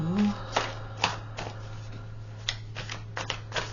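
Soft papery riffles and light slaps of tarot cards being shuffled, a series of brief crisp bursts close by over a steady low hum.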